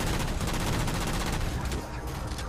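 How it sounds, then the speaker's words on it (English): Heavy combined weapons fire in the Halo 4 video game, with rocket, cannon and machine gun bursts forming a dense, continuous loud barrage that eases slightly near the end. "it's a combination of rocket and cannon fire, or machine gun fire here"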